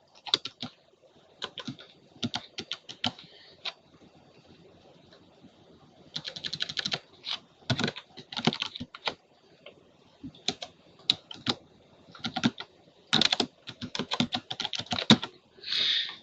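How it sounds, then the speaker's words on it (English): Typing on a computer keyboard to enter search terms, with irregular bursts of rapid clicking keystrokes separated by short pauses. The keys are close and fairly crisp, and no voice is heard. "I'm going to type in HIV"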